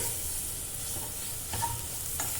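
Onions with garlic and chili powder sizzle steadily in a hot pan while being stirred, a constant frying hiss with a few scraping stir strokes near the end.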